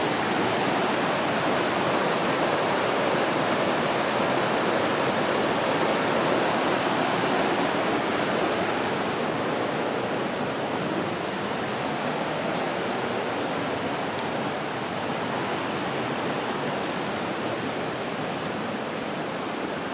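A river rushes beside a forest trail at Intestate Falls, a loud, steady broadband roar of water that holds unbroken for the whole stretch with no voices.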